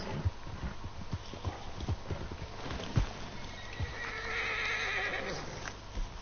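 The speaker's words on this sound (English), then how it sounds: "Horse." A horse whinnies amid a steady clip-clop of hooves in Red Dead Redemption 2, with game-like ambience and occasional thumps in the background.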